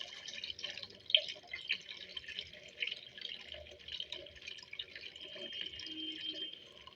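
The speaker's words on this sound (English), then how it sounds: "just gently pour the water into the oil" Water trickles and drips steadily into oil close by, a soft irregular pouring with small splashes throughout.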